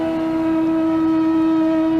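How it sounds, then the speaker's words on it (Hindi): A conch shell sounds in a long, steady, droning blast from a Krishna mythological TV series, sustained and loud over faint background noise. "तुम ये शंख की ध्वनि सुन रहे हो?"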